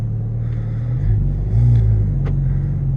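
A Porsche GT4 RS with its exhaust valves open idles with a deep, steady rumble, then blips its revs twice in short swells before settling back, with no talk.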